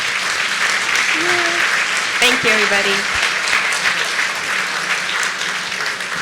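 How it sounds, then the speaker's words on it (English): Sustained audience applause fills a stage event at a policy talk on great-power competition, steady and dense throughout, with someone speaking briefly over the clapping. "let's give him one last round of applause"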